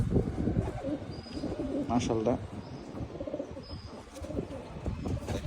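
Pigeons coo softly nearby in short throaty bursts, with faint chirps, while someone speaks quietly over them.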